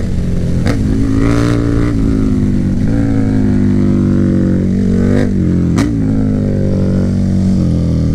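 KTM Super Duke 1290 R sport motorcycle engine roaring loudly and close while riding, steady high revs with a few sharp throttle blips and gear changes, no talking.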